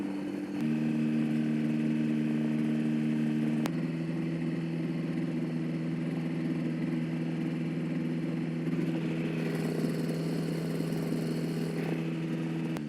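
A light aircraft engine drones steadily at a constant pitch while the plane taxis before takeoff, a continuous mid-range hum that stays loud and even with no talking.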